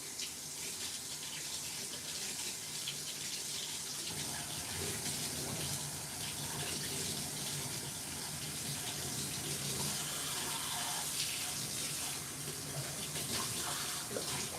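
Hot water pours steadily from a tap into a mixing bowl in a home kitchen, a continuous near splashing gush with no break for the whole stretch.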